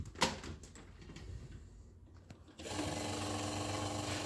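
An electric standing pedestal fan, just repaired by rewiring its motor coil, switches on and runs, giving a steady, even mechanical hum and whir that picks up partway through and continues at constant level, close by.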